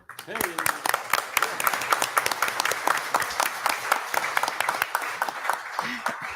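Applause breaks out at a city council meeting, scattered to steady hand clapping from the room, with voices audible over it.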